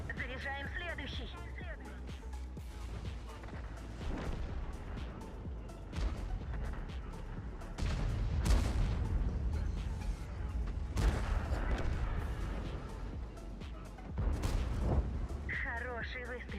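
Heavy tank cannon blasts boom at intervals in a tank battle video game, several deep thumps with rumbling decay, under frequent talk from a player.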